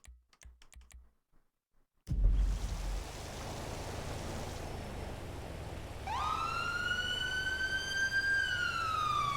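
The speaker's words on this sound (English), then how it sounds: "See the sirens going there." A police siren wails in rising and falling sweeps over a dense, busy FiveM game soundscape, following a few seconds of sparse clicks.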